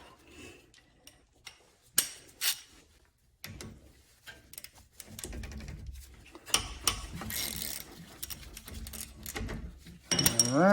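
A 17mm socket ratchet works on the front brake caliper bolts of a 2016-2022 Lexus RX350 or RX450h, giving irregular clicking and clunking metal bursts with scrapes and handling noise, moderately close.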